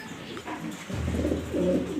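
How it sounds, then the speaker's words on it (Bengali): A splash spangle-colored German Beauty pigeon, a male, gives low, throaty cooing that swells and rolls continuously in the second half, close and moderately loud. "আরেকটা কবুতর আছে স্প্লাস স্পেঞ্জেল কালার জার্মান বিউটি দেখাচ্ছি আমি"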